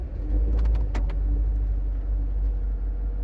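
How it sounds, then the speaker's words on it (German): A car rolls down a steep dirt road in first gear, its engine giving a low, steady rumble with a few brief clicks and knocks, no voices. "Wir sind beim zweiten steilen Stück und wir rollen im ersten Gang"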